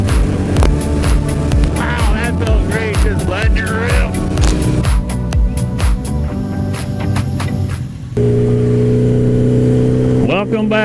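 A 1980 Suzuki GS850 motorcycle ridden on a scenic road, its engine droning loud and close with rising and falling pitch through gear changes, while a rider's voice talks over it.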